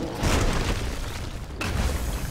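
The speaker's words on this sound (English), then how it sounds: "Your team has destroyed a right enemy tower." An enemy tower collapses in the video game Smite, a loud booming blast that rumbles on for about two seconds with a second impact near the end, no talking.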